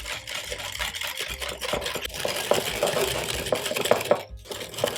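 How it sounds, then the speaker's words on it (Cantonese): A whisk beats 25 grams of sugar into egg yolks in a bowl for pistachio crème brûlée, fast rhythmic metallic scraping and clinking against the bowl, close and continuous, with no talk. "然後我哋加入25克嘅糖啊，打勻晒佢，盡量將個糖同蛋黃融合埋一齊"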